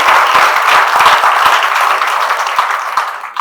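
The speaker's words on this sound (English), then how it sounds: "Let us welcome our officers of Nation Chennai with a big round of applause." Audience at a valedictory ceremony for a GST inspectors' induction training batch gives a loud round of applause, dense clapping that thins slightly toward the end of the few seconds.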